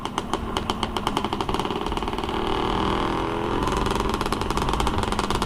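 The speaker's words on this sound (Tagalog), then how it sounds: "Namiss ko na rin po matak ng motor na to eh." A Yamaha XTZ-125 motorcycle engine pops and putters in a rapid, steady rhythm, then rises into a smoother revving drone before the pulsing beat returns. The engine sounds close and fairly loud, with no voices.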